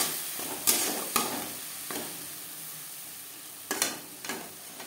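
Cumin paste, cumin seeds, pepper and dried chilli fry with tomatoes in a pan, a low steady sizzle punctuated by about five sharp bursts as the paste and spices hit the hot oil or are stirred.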